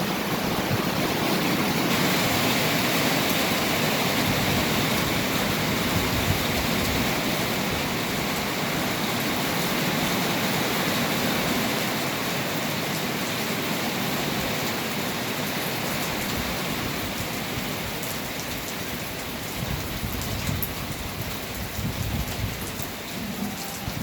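Heavy rain pours down in Negros, a dense, steady hiss of drops drumming on surfaces that stays loud throughout, with a few heavier patches of splashing near the end.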